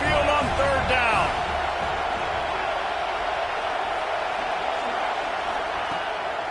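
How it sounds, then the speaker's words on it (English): College football stadium crowd noise rolling down onto Saban Field on third down, a broad steady roar with a brief whoop at the start. "The Tide crowd rolling noise down onto Saban Field on third down."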